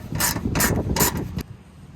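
A ratchet works on the 10mm headlight bolts of a 1994–2001 Dodge Ram, making three quick close clicking bursts in a row before falling quiet.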